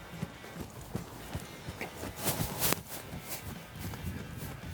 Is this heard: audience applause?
no